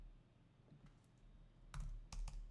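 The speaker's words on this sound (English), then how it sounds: "Here, I'll type it in here." Typing on a computer keyboard, with a few faint, scattered keystrokes followed by a pair of louder clustered clicks near the end, with no voice.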